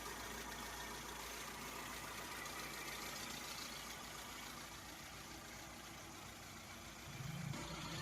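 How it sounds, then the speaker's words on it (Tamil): A car engine idles steadily throughout, a continuous low rumble with broadband noise, rising slightly near the end. "இன்ஜின் ஸ்டார்ட் பண்ணிக்கிறேங்க."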